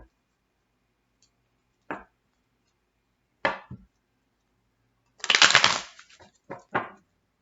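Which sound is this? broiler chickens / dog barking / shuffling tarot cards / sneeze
shuffling tarot cards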